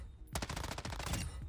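M13B assault rifle in Warzone 2 fired in the firing range, a rapid sustained burst of close, loud automatic shots after a brief quiet start.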